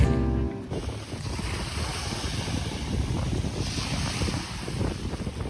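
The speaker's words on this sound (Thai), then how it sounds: "บวกกับเสียงคลื่นทะเล" Sea waves roll onto the beach at Pattaya, Thailand, a continuous surf roar with strong wind buffeting the microphone, no voices.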